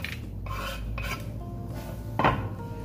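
Walnuts stirred into brownie batter in a bowl, a spoon or spatula scraping and rasping against the bowl in a few slow strokes, ending with a sharper clink near the end.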